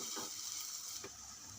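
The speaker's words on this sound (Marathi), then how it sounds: "कोमट पाणी घालून परतून घ्यायचे." Lukewarm water goes into masala being sautéed for hotel-style matar paneer, bringing a steady hiss and sizzle from the pan with a few soft stirring scrapes.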